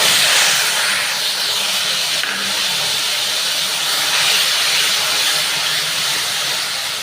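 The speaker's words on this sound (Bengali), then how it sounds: "এটাকে এখন ফোড়ন দিয়ে মশলাটাকে কষিয়ে নেব" Tomato and ginger spice paste sizzles in a hot frying pan while fish curry is cooked, a steady close hiss of frying that holds evenly throughout with no talk.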